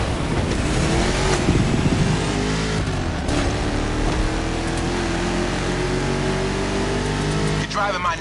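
A loud, throaty 1969 Mustang Boss 429 engine in the video game The Crew Motorfest roars continuously with rising revs, mixed with game sound effects and a voice talking over it.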